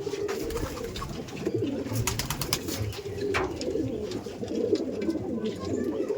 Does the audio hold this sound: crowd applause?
no